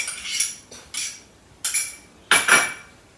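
Spoon mixing ginger garlic paste into Anglo-Indian chicken vindaloo, four or five distinct clinks and scrapes of metal against the pot, close and clear with short pauses between strokes.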